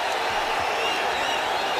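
A Puerto Rican arena crowd roars after a TKO victory at a cage fight, a dense, loud, continuous wash of cheering with no breaks over its brief span.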